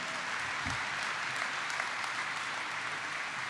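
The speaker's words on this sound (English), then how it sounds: "So, Jim McGovern, please give him a big round of applause." Town hall audience applauding steadily as a congressman is introduced, a dense continuous clatter of many hands filling the room at even loudness throughout.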